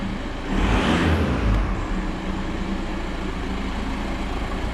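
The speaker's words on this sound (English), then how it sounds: "if I press on the gas pedal," A VW Golf 5 with the 1.9 TDI diesel rises to a brief louder rev as the gas pedal is pressed, then settles back into a steady close idle rumble.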